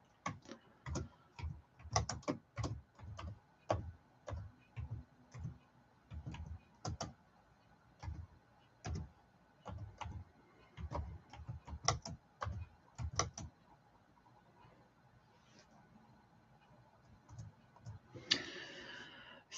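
Clicks of a computer keyboard being typed on in steady irregular bursts, close and fairly quiet, stopping with a short rustle near the end.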